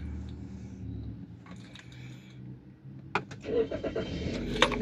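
A 2015 Toyota Rush G automatic engine cranks and catches, settling into a low idle after a few quiet clicks and rustles inside the cabin.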